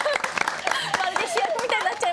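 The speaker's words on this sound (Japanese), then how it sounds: "盛大な拍手でお送りください" Studio applause sending off a departing presenter at the close of a Japanese morning television show, brisk clapping from a small group mixed with overlapping voices and chatter.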